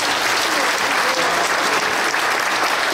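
Loud, dense applause from a large church congregation at an anniversary service, steady clapping filling the whole stretch without a break.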